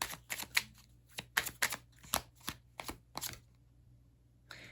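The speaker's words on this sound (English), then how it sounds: "let me shuffle one more time." Tarot cards being shuffled by hand, a run of sharp crisp riffling bursts in an uneven rhythm, close and fairly quiet, with a steady low hum underneath and no talk.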